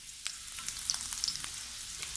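Chopped garlic sizzles in hot vegetable oil for egg fried rice, a steady bright crackling fry with scattered pops and light stirring, close and without talk.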